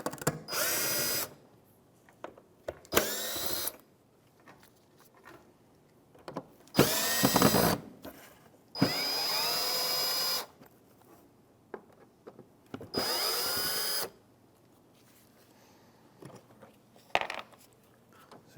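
Power drill backing out Phillips screws from a fog light on a 2011-2016 Hyundai Elantra, five or so short whirring bursts separated by pauses, close and fairly loud, with small clinks and handling noises between runs.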